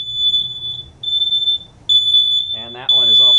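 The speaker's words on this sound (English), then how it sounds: "These are what the alarms do sound like. They are very loud." A home smoke alarm sounding during a monthly test, a loud piercing high-pitched tone in repeated bursts with short gaps. A person talks over the final second.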